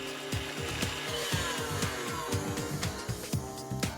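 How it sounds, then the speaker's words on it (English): Electric mixer whisking two ingredients at full speed, a steady loud motorized whir with rhythmic beating and clattering of the whisk, continuous throughout with no talking. "the next step is to whisk those 2 ingredients together at full speed for at least 15 minutes"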